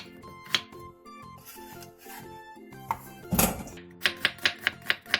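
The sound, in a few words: chopping radish with a knife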